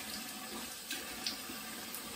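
Cold water runs from an outdoor tap in a steady, soft, even splash for the whole moment, with no talking.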